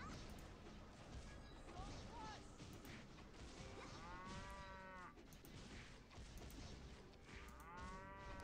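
Dairy cows in the video game Grand Chase moo several times amid busy game clatter and hits, with low, drawn-out calls rising over a steady, noisy background.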